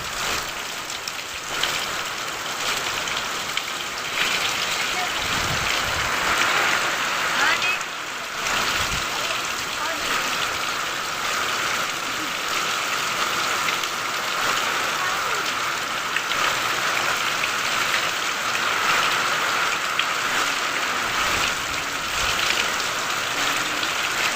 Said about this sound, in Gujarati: જો ચારે બાજુ વરસાદે વરસાદ છે